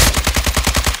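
Rapid light machine gun fire in the Warzone video game, a steady rhythmic burst of roughly ten loud close shots across the full second, with no talking.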